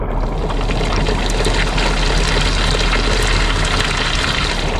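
Heavy rain pours onto a rooftop in a dense, steady roar of splashing water, loud and close with no let-up and no voices.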